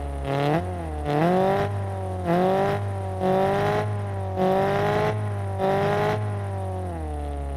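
A Honda EK9's engine revs repeatedly in Car Parking Multiplayer, surging up and dropping back in roughly one-second bursts with a steady low idle beneath. The engine note is loud and close, with no talking.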